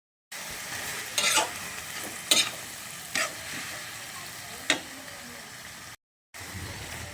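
Squid sautés in a pan with a steady sizzle, broken by several sharp scrapes and clacks of a utensil stirring. The sound cuts out briefly near the end.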